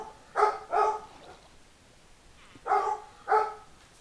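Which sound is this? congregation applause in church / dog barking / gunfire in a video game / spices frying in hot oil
dog barking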